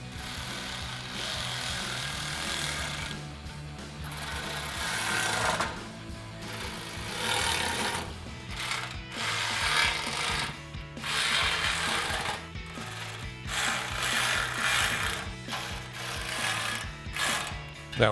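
Continuous ratcheting and metallic clatter from tightening screws with a 2.5 mm Allen key and a 7 mm socket on a 2015-2017 Mustang GT cold air intake, loud and steady with brief gaps.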